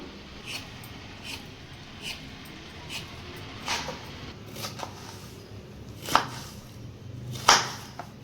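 Knife chopping peeled beetroot into small pieces on a board, a steady series of soft, fairly quiet cuts spaced about a second apart, with a couple of sharper, louder chops toward the end.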